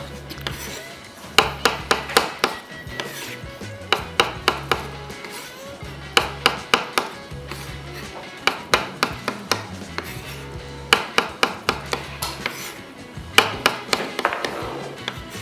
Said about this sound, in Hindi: सो मशरूम सबसे पहले स्लाइस